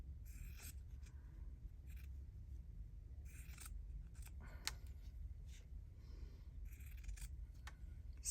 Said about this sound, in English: I can find some scissors, fabric scissors.